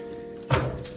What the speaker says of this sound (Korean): 문을 닫을 수도 있고